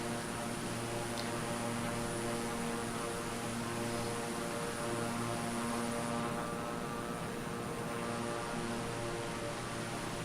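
Propeller airplane engine droning in flight as the aircraft ices up, a steady, loud, continuous hum with strong tonal harmonics lasting the full ten seconds, alone without speech.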